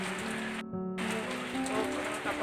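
Steady rain falls in Guwahati, a continuous hiss of drops on surfaces with a low hum beneath, briefly cut out for a moment before resuming, with no talk.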